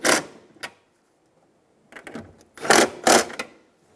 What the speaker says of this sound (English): Tighten them down with an 8mm socket.